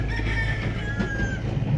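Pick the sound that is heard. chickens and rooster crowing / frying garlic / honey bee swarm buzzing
chickens and rooster crowing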